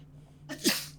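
A single sharp sneeze bursts out after a brief intake of breath, close and loud against a quiet background hum.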